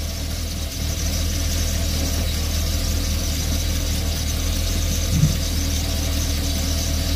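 An RV engine runs steadily while the transmission is shifted through its gears, a constant low idling drone with a faint whine and one small clunk near the end.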